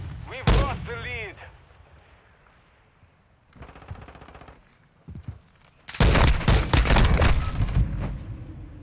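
Gunfire bursts from Call of Duty: Modern Warfare 2 (2022) gameplay, with a loud sustained volley of rapid shots near the end, earlier scattered shots and game effects, and a voice speaking briefly.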